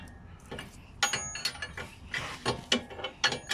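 Ratchet wrench tightening a front lower ball joint nut on a 2015 Toyota Corolla, a close series of sharp metallic clicks in irregular bursts, quiet background between strokes.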